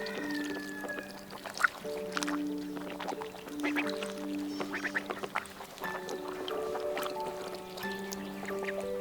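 Farm ducklings in Australia quacking repeatedly in short, bright bursts, fairly close and lively, with soft water and rustling in the background.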